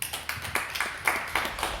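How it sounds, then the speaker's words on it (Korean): A church congregation at a Friday evening worship service claps in a steady, moderately quiet rhythm, roughly four to five claps per second, heard from a distance in the room. "그럼 박수 한번 치겠습니다."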